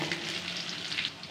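Crackling, hissing sizzle of curry leaves dropped into hot oil with onions, a brief steady frying sound at low volume.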